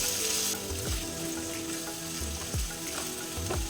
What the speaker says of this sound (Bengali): এখন এই পেঁয়াজটাকে অনবরত নেড়ে চেড়ে গোল্ডেন করে ভেজে নেব